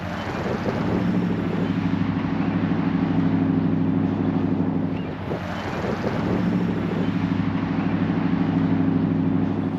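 A Kingbull Literider electric bike rides at top speed and then brakes, a steady motor whir buried under heavy wind rush across the microphone, with no voices.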